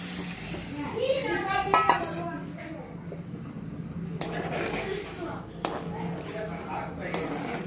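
Mushroom masala gravy made from a premix is stirred in a pan over a medium flame, with a spoon scraping and clinking against the metal in scattered strokes and a faint background hiss.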